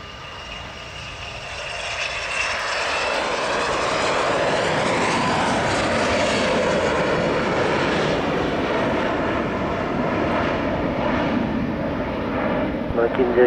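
A Gulfstream G650 private jet takes off at Geneva airport, its engines a loud, steady roar that swells and holds across the whole stretch with broadband rumble and whine.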